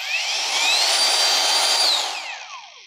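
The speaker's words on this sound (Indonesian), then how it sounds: "untuk motornya atau untuk mesinnya ini sudah soft start ya, jadi tidak langsung kencang apabila kita nyalakan" A power saw motor with soft start spins up gradually. Its whine rises steadily in pitch, holds at full speed, then winds down as it coasts to a stop. It is loud and close.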